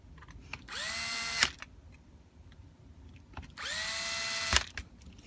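A cordless impact tool with a clutch set torque tightens a valve stem on an FX, giving two separate bursts of whirring, rising motor buzz. Each burst lasts under a second and ends with a sharp clack, with quiet gaps between them.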